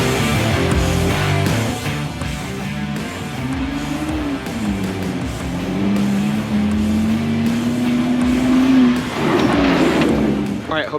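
Toyota Tacoma truck driven fast on a dirt road on a Colorado loop near Hackett, engine rising and falling in pitch through gears, gravel rumble and rattles under it, someone speaking over the noise.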